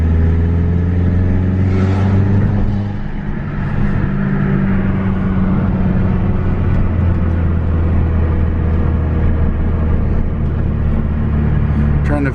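A Mk4 Volkswagen GTI engine drones loud and steady at close range, a continuous deep rumble with rising revs, while a voice talks over it; no distinct blow-off hiss stands out.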